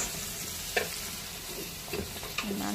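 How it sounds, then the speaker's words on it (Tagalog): Onion and tomato fry in a pan and are stirred. A soft continuous sizzle runs throughout, with a few quiet scrapes of the spoon, close by and with no voices. "ukayon lang nato na guys until mag light golden brown atong sibuyas o ihalo na nato ang atong kamatis"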